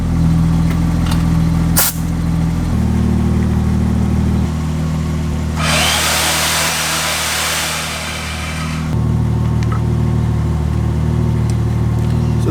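A Porsche 996 Turbo engine idles up close with a steady low rumble, its note shifting a few times and broken by a brief burst of hiss midway.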